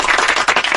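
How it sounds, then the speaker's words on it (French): A brief burst of audience clapping at a poetry reading: a quick, dense patter of hands that stops sharply after under a second. "On applaudit, mais vraiment pas longtemps, puis ça finit sec."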